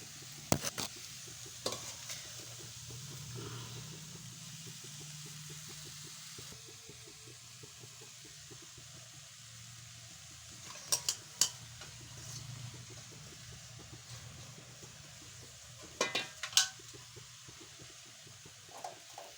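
Spinach (palak) is stirred and fried in oil in a pan over low heat, giving a steady soft sizzle with occasional sharp clinks and scrapes of the spoon.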